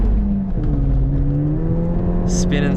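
A budget turbo hot hatch accelerates hard with its wheels spinning, its engine drone steady and close and its pitch climbing gradually, with brief higher tire or turbo chirps near the end.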